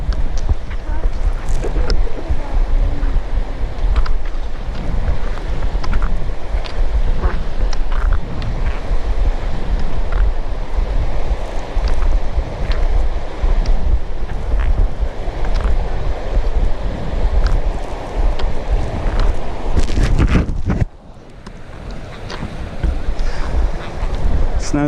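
Strong wind roars across the microphone while cross-country skiing along a snowy creek, a continuous loud gusty rush that briefly drops near the end before picking up again.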